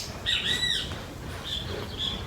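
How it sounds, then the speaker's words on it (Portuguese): Birds chirping and singing outdoors, a few bright, clear calls in short bursts separated by pauses over a soft background hush. "Parar, ouvir os passarinhos."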